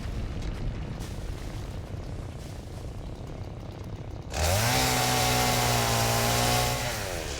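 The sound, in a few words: chainsaw cutting trees in the video game Satisfactory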